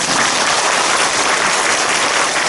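A church congregation at a revival service gives dense, continuous applause in praise of the Lord, a loud, even wash of many hands clapping at once with no gaps.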